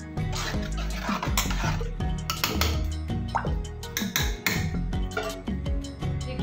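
A pot of homemade ghee with cold water added is stirred up close, with a steady run of clinks, scrapes and small liquid splashes from a metal utensil against the vessel, and no talking.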